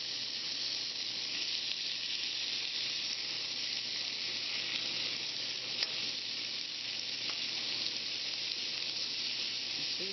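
Chicken fries in grease, lard and cooking oil for a chicken and spinach pasta, giving a steady, bright sizzle that hisses evenly throughout with a faint pop or two, no voices over it.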